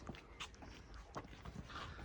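A dog whimpers and shuffles about nearby in a quiet room, with faint short whines and soft scuffling bursts over a couple of seconds.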